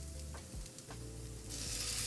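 Steady crackling sizzle of ground beef frying in a pan for stuffed peppers, continuous and close, growing a bit brighter toward the end, with a few soft stirring clinks.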